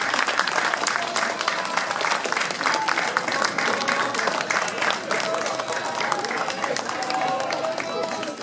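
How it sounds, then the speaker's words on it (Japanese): Outdoor crowd at a Japanese neighbourhood festival, the Shimo-Nerima-juku matsuri, clapping steadily and loudly throughout, a dense continuous patter of many hands with faint voices mixed in. "拍手お願いいたします。"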